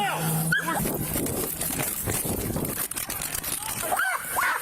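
Police dog barking during a search in the woods, the barks sharp but partly buried under radio chatter, shouting and rustling, with a few louder yelps toward the end.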